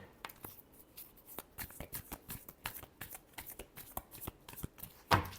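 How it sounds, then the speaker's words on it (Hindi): Tarot cards are shuffled by hand in a quick run of crisp, dry riffling flicks, close and fairly quiet, ending with a brief louder rustle. "Last shuffle."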